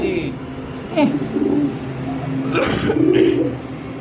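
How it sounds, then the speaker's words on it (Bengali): Blue bar racing pigeons coo in low, throaty bursts close by, with a bird call and a few rougher sounds rising partway through. Someone speaks faintly in the background. "কবুতর যদি না ডাকে ভাই তাহলে শান্তি লাগে? যত ডাকবে তত মজা লাগে না?"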